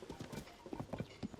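Horse hooves clip-clop at a steady trotting rhythm in Tears of the Kingdom, quiet and fairly close, with a faint background behind them.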